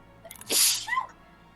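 A single loud, close sneeze during a tabletop role-playing game session, with a short breathy intake, an explosive burst and a faint vocal tail, in an otherwise quiet room.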